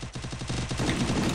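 Rapid automatic gunfire in the battle royale game Free Fire, a fast burst of closely spaced shots followed by heavier, overlapping fire, loud and near.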